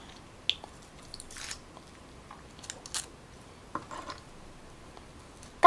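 A whole boiled purple yam bitten and chewed up close: a handful of soft crunchy bites and moist chewing sounds spaced out over quiet, no talking.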